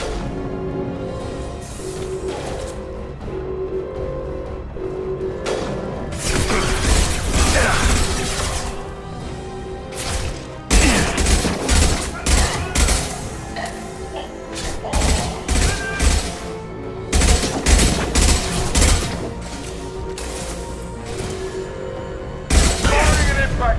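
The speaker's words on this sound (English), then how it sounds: "Firing concussive shot!" Weapon fire and combat effects from the sci-fi video game Mass Effect 2, including a concussive shot, arrive as a run of loud, sharp bursts and booms over a steady mechanical game bed, with bursts clustering in the second half.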